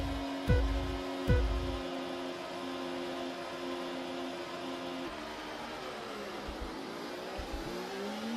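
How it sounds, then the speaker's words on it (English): Racing car engine in a video game at a race start, revving hard with wheel spin: two quick low thumps, then a steady loud droning whine that shifts pitch as it holds, alone without talk. "Too many revs on the start, lots of wheel spin."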